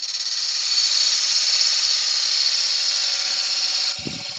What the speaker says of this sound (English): Turn the lathe up to about 700.